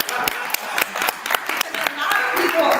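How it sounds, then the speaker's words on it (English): Conference audience clapping, a dense patter of hand claps spread across the room, fairly loud and continuous, with a voice talking over it. "we can clap for that"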